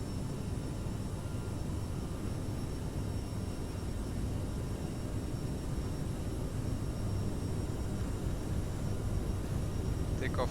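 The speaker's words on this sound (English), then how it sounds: "Takeoff thrust set." Steady, loud roar of twin jet engines on an Aerosoft CRJ700 regional jet at takeoff thrust in a flight simulator, a continuous broadband rumble that holds unchanged throughout with no talk over it.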